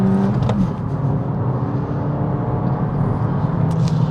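A Suzuki Swift Sport Hybrid launches hard with a little wheel spin, its engine droning and revving steadily at close range throughout, with no talk over it.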